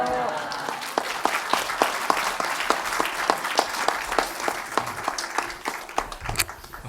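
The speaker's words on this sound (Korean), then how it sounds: "박수까지 쳐주시는" A church congregation applauds as a pastor comes forward. Loud, steady crowd clapping is mixed with distinct sharp individual claps and runs under spoken voices.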